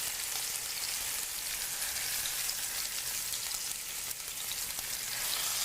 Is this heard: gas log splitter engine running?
no